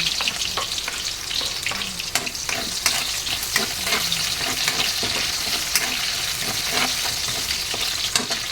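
Garlic sautéing in a pan for homemade saucy pancit, a steady bright sizzle with frequent clinks and scrapes of a utensil stirring, close and continuous with no talk.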